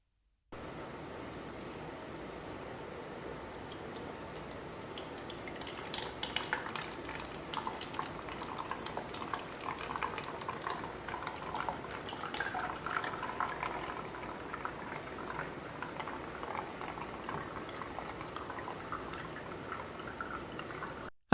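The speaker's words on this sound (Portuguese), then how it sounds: "Em seguida, filtrarei a água com açúcar." Sugar water filters and drips through a filter in a classroom experiment on aqueous solutions, making a faint, continuous soft trickling and dripping that persists throughout with no talking.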